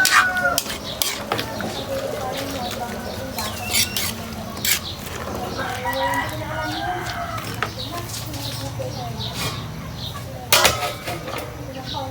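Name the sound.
stirring cooking pot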